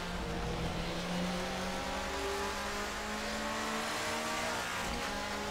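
A 1990s BMW DTM touring race car drives in the Assetto Corsa racing simulator, its engine holding a steady, loud, buzzing drone with slight shifts in pitch as it holds speed, with no one talking.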